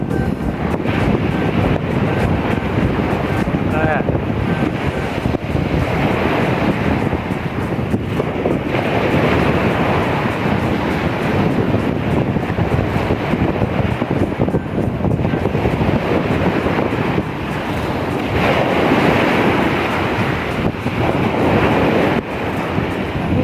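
Strong ocean waves wash and roar at a beach in a steady, loud surge, with gusts of wind buffeting the microphone and no clear talk.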